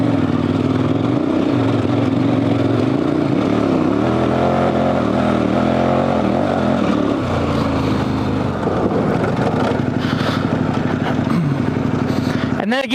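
Adventure motorcycle on Heidenau K60 Scout dual-sport tires pulling hard in second gear off-road, a loud steady engine drone rising and shifting in pitch, with heavy wind rumble throughout.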